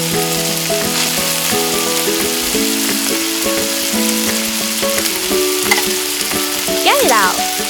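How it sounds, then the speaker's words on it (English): Marinated salmon fries in a pan with butter, giving a steady close sizzle and crackle throughout, with light stirring scrapes and a few faint clinks near the end. "Drop the marinated salmon into the pan. Fry until both sides of the fish are cooked evenly."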